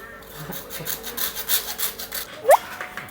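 Soft, steady back-and-forth scraping of a hand saw cutting wood during an air conditioner installation, strokes repeating quickly at close range, with a brief squeak near the end.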